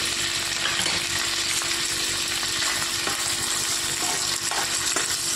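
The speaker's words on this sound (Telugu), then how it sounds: "ఇందులోనికి నెత్తళ్ళు వేసుకొని వేయించుకోవాలి." Dry fish frying in hot oil in a pan, a steady dense sizzle and crackle that holds loud and even throughout with no talking.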